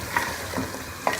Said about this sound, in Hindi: हमने इसको मसलसल भूनते रहना है जब तक दही इसके अंदर मिक्स ना हो जाए